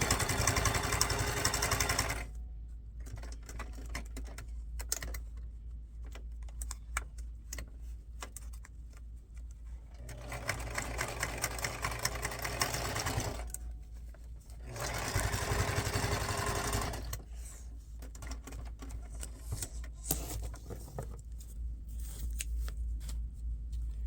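A sewing machine stitching strips of paper and fabric scraps together runs in bursts of rapid mechanical chatter, stopping and restarting several times with quieter pauses between runs.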